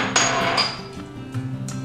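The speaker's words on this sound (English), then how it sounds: "lay the chicken between two pieces of plastic wrap, and pound it with a mallet" A mallet pounds chicken breast laid between sheets of plastic wrap for chicken piccata. About four sharp, close thuds land at uneven intervals, some with a slight clinking ring.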